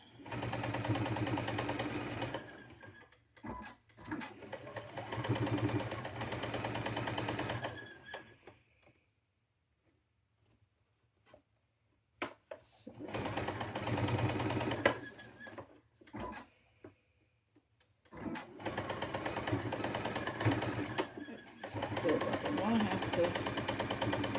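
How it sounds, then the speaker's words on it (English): A home sewing machine joins two pieces of fabric for a goat craft project, in four long whirring bursts with a quiet pause in the middle. The machine is skipping stitches and probably needs a cleaning. "So Let's sew these two pieces together, and then we'll sew them to the larger piece."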